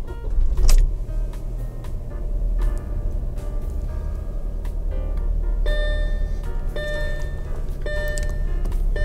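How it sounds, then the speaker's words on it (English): An Audi car engine cranks with a short burst, then settles into a steady low idling rumble with faint mechanical clicks over it. "all there's left to do now is start the car"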